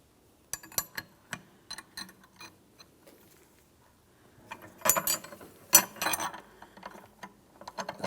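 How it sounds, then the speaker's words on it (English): A puller works the power steering pump pulley off its shaft on a 2007-2014 GMC Sierra 2500 HD: sparse metallic clicks and ratcheting at first, then a cluster of louder sharp cracks and knocks as it gives way, close and without talk. "that's the sound we're looking for, the pulley breaking free from the shaft"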